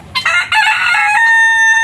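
Rooster crowing loudly and close by near a compost area where chickens break down vegetable scraps, one long strained call rising and holding steady.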